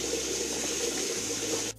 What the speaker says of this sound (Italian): Dopo averle selezionate, le sciacquiamo per bene.